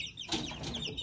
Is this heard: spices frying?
no